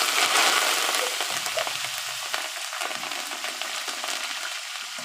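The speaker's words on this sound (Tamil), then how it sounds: "அவல், நம்ம மிக்சரு எல்லாத்தையும் நல்லா அப்படி கிளறி விடணும்." Snack mixture of flattened rice and other ingredients stirred as it fries in a pan with curry leaves, giving a steady crackling sizzle with scraping stir strokes, close and fairly loud throughout.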